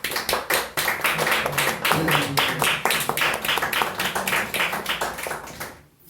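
Applause from a modest audience at a history book talk about July 1936: crisp, separate hand claps in a brisk, uneven rhythm, fairly close, sustained for several seconds before stopping abruptly.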